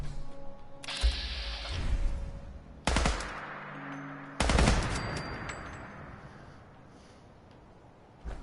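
Turret gunfire in Fallout 4 on a wooded map: three separate bursts of rapid machine-gun shots, each fading into a long reverberant tail, with quieter gaps between them.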